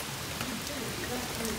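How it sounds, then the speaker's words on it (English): Hard rain falls during a thunderstorm, a steady dense hiss of drops on surfaces, with faint voices murmuring in the background. "Oh my god, it's raining hard now."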